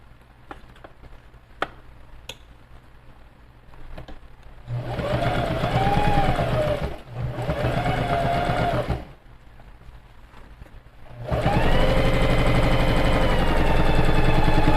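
Three bursts of a sewing machine stitching a handbag's lining, each a loud, even whir of a few seconds separated by short pauses, the last run the longest.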